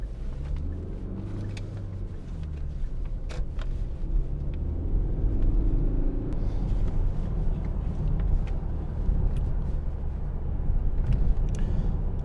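Hyundai i40 1.7 CRDi diesel car cruising on a test drive, a steady low interior road rumble and engine drone with no talking.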